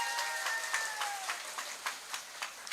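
Audience clapping at an afternoon religious lecture, a brief scattering of claps with a few sharper individual hits standing out, moderately loud and fading in and out.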